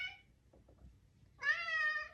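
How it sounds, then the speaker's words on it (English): A cat meows twice, a short faint mew followed by a louder, longer drawn-out meow, close by in a quiet room. "pet a kitty cat"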